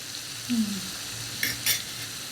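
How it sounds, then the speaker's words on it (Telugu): Chopped ivy gourd pieces fry in a pan with a soft, steady sizzle, broken by a few quick scraping stirs and utensil taps. "మనం దొండకాయ ముక్కలు కోసుకున్నాం కదా అది వేసుకోండి"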